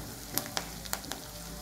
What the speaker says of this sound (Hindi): अभी कड़ी पत्ता थोड़ा अच्छा से फ्राई होने दो